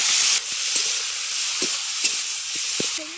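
Chopped tomato frying in hot oil with whole cumin seeds, producing a bright steady sizzle. Several soft stirring knocks and scrapes of a spoon against the pan break in at irregular intervals.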